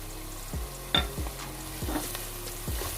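Masala fries in a pan with ground dried coriander for daal mash: a soft sizzle runs under five or six sharp spatula scrapes and knocks at uneven intervals.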